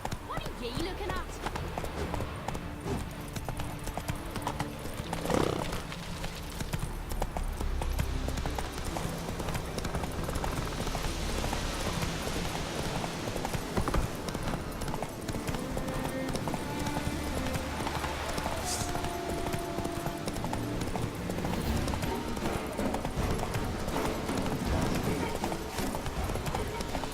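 Hooves of Roach, the horse in The Witcher 3, clop and gallop in a steady, continuous beat, with game music and ambient sound layered around them throughout.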